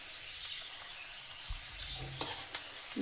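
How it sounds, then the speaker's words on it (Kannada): Bun kebabs fry in hot oil with a steady, soft sizzle throughout. A few faint clinks and light stirring sounds come near the end, and there is no talk. "ಅಂದ್ರೆ ಹೊರಗೆ ಮತ್ತು ಒಳಗಡೆ ಚೆನ್ನಾಗಿ ಇದನ್ನು ಫ್ರೈ ಆಗಿಬಿಡ್ತದ್ರಿ ಎಣ್ಣೆ ಒಳಗೆ"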